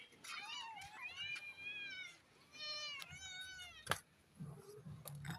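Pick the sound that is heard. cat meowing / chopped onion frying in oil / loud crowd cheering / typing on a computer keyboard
cat meowing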